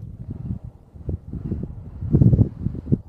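Strong wind rushes and rumbles low around an abandoned mansion, a continuous droning hum with gusty swells, building louder toward the end.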